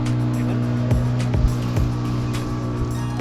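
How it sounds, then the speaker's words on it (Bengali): A speedboat running across a lake ringed by hills at Chandil, its engine giving a steady droning hum close by, with irregular thumps and splashes as the hull strikes the water. "এই ফার্স্ট টাইম স্পিড বোট চলছে"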